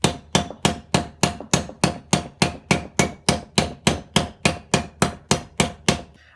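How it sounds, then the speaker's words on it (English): Steady, evenly spaced planishing hammer blows ring out on a hand-raised silver sauce boat, about three strikes per second, bright and close, with no talking. "I'll go with a planishing hammer to remove all the raising marks."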